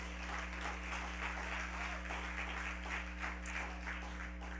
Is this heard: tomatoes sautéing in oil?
no